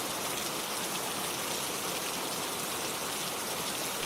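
Steady rain falls in a dense, even hiss at constant loudness with no voices, a continuous outdoor downpour on a late rainy evening.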